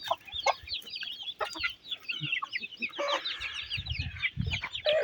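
Broody hens cluck and chatter continuously, several birds close together, with short rising calls and soft scratching in the background.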